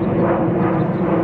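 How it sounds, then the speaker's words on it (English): An airplane passes overhead outdoors, a steady low broadband engine roar that stays even and unbroken for its short length with no talking. "That's the plane sounding."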